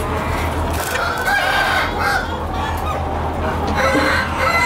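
Chickens cluck and squawk continuously nearby while hens are handled for artificial insemination, a busy, loud poultry clamor with low steady background hum.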